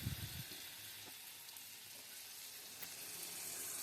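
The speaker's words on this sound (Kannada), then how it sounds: "ಈ ತುಂಡುಗಳನ್ನು ಈಗ ಮೊದಲೇ ತಯಾರು ಮಾಡಿಟ್ಟಂತಹ ಅಕ್ಕಿಯ ಜೊತೆಗಿನ ಮಸಾಲೆಯಲ್ಲಿ ಅದ್ದಿ ಕಾದ ಎಣ್ಣೆಯಲ್ಲಿ ಬಿಡಬೇಕು." Brinjal slices dipped in rice and masala batter sizzle in hot oil for a coastal-style bajji, a continuous soft bubbling hiss with a few faint clinks at the start and no voices.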